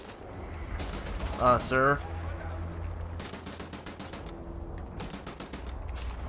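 Gunfire in the Wolfenstein: The New Order shooter, clusters of rapid close shots in bursts with pauses between, a voice briefly speaking amid the shooting.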